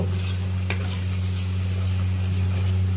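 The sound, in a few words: stirring and frying bean seeds in spices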